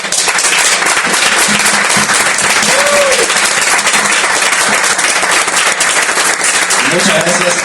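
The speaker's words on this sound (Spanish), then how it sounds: "un aplauso para él" Loud, sustained applause from a crowd, dense clapping filling the whole stretch with a few voices under it.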